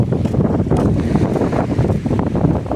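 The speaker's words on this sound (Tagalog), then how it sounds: "Sarap pakinggan nung yung hampas ng hangin, sariwang sariwa." Strong seaside wind at Balayan, Batangas buffets the microphone in a steady, loud roar of rumbling gusts, with a faint wash of surf beneath and no voices.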